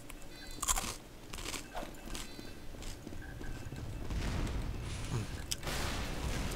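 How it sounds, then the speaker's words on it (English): Fritos honey barbecue flavor twist chips being crunched up close, with a run of sharp, loud bites followed by chewing, mostly alone with only faint background. "Now that's a crunch we can all get behind."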